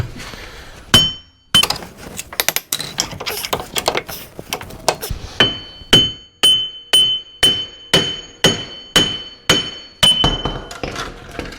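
A hammer beats repeatedly on a Jeep WK axle part, loud close metallic strikes with ringing clinks, first irregular and then in a steady rhythm of about one blow per second.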